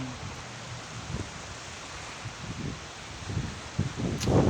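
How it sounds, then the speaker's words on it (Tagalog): Steady broadband wind noise with gusts that swell and fade, like strong wind rushing through tree leaves, continuous and fairly close. "Tingnan nyo yung puno. Nako, malakas yung hangin."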